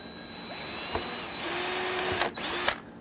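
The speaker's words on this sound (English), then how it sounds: "make sure that you tilt the drill so it's going straight in" A power drill whines steadily at close range, its pitch shifting as it bites into material, with a brief stop before spinning up again.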